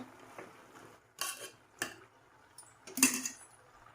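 A spoon stirs and scrapes food in a metal pot while a festival dish is cooked, giving a few separate clinks and scrapes between quiet pauses.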